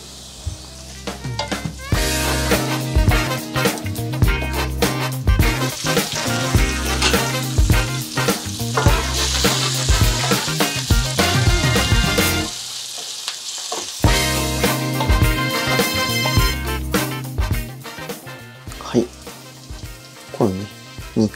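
A frozen ingredient goes into a hot pan for burdock chicken curry, giving loud continuous sizzling and crackling that drops away briefly midway before resuming.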